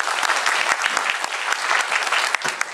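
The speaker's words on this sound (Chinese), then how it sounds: "我们给理事长一个掌声好不" An audience at a sales meeting applauding the chairman, loud dense clapping from many hands that continues steadily without a break.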